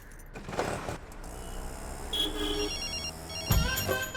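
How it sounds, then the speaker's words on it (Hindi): A phone rings inside an auto-rickshaw in a street scene from a Hindi-dubbed South Indian film: short electronic ringtone bursts sound over street and engine noise and a brief clatter. "फिर से फोन कर रही है।"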